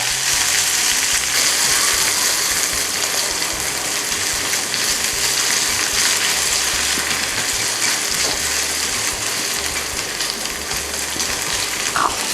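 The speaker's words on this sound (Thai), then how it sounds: "ใส่หอมใหญ่ลงไปผัดค่ะ ผัดให้หอมใหญ่ มีกลิ่นหอมนะคะ" Onions stir-fry in oil in a pan for Japanese-style chicken rice, making a loud, continuous, close sizzle throughout with no talking.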